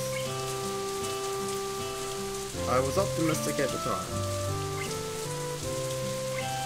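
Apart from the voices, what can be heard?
heavy rain falling, visual novel sound effect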